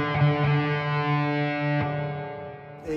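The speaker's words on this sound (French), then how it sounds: "on a filtré un petit son de guitare" A small filtered electric guitar tone drenched in heavy reverb sustains a steady, droning chord that rings out smoothly and sits alone with no talk.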